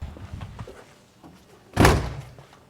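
A door at a salvage yard that dismantles crashed cars for parts swings open with one loud, close thud or slam near the middle, preceded by faint low rumbling and scuffs.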